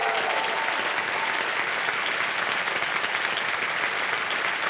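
Studio audience on the KBC quiz show claps in a dense, sustained round of applause, loud and even throughout with no voices rising above it.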